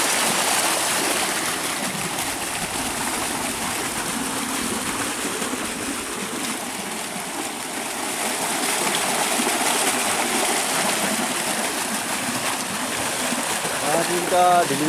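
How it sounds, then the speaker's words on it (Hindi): A 10 HP solar-powered tube well pump pushing a heavy flow of water out of a 5-inch delivery pipe, a loud, steady gushing rush with churning water, continuous and close, with a brief rattle near the end. "ये देख लें मोटर चल रही है, बहुत ज़्यादा पानी है, पानी घूम के आ रहा है।"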